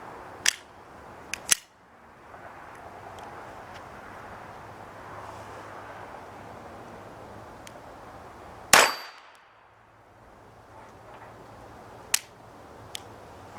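Sig Sauer Mosquito .22LR pistol firing Norma TAC 22 ammunition outdoors at a range, a single sharp, loud crack mid-clip, with a few lighter metallic clicks and clinks of handling before and after it.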